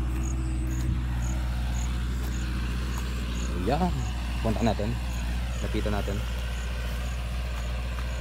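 A tractor runs steadily in a rice field during rotor tilling, a constant low engine drone throughout with insects chirring in the background while people talk over it.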